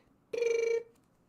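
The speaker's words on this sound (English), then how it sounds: "That's the phone now." A brief electronic phone ring, a single bright tonal burst with strong harmonics lasting about half a second, fairly close and clear with no talking over it.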